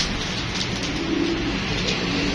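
Pigeons coo softly and steadily, close by, under a constant broadband hiss like rain or wind, with no speech.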